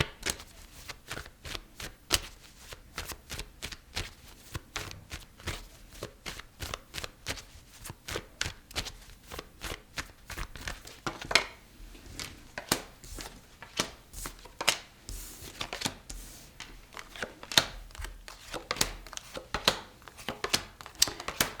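Tarot cards are shuffled and drawn in a long, steady run of crisp riffling flicks and soft slaps, close and fairly quiet, with no talking.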